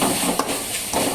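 Red spinach (sigappu keerai) sautéing in a pan for sambar while being stirred, a soft continuous sizzle broken by a couple of sharp utensil scrapes against the pan.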